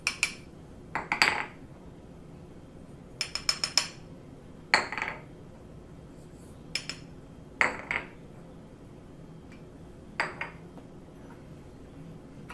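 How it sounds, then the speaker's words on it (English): Seasoning being mixed in a bowl for Cantonese lobster, heard as scattered clinks and scrapes of utensil against the bowl in short bursts, fairly close with quiet pauses between. "mix all your seasoning into a bowl"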